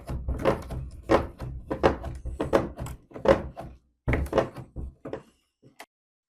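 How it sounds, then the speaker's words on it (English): A rusted, seized door is yanked off its hinges, giving a run of loud, close thumps and knocks that come in uneven bursts for several seconds before fading out. "Well, it should just slide off the hinges, but I think they're so seized."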